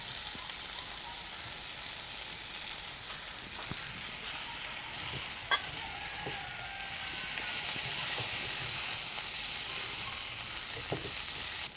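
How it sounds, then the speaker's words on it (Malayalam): Fried chicken and cashew nuts sizzle in a hot pan, a soft, steady hiss with occasional faint clinks and stirring sounds, fairly quiet and heard alone. "കാഷ്യൂ നട്ട് ഇട്ടതിന് ശേഷം നമ്മൾ വറുത്ത് വെച്ചിരിക്കുന്ന ചിക്കൻ നമുക്കതിലേക്ക് ആഡ് ചെയ്യാം"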